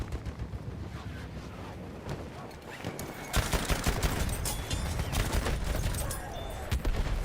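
Heavy anti-aircraft gun fire in Battlefield 1, a dense barrage of loud, rapid booming shots that swells after a quieter opening, with wind-like rumble and scattered distant gunfire throughout.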